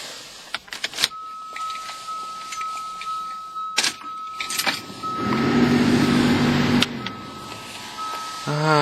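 A family car in a cold garage at about 37 degrees goes through a cold start: a chime and ignition clicks, then the engine cranks and catches into a steady, close rumble for a couple of seconds before settling.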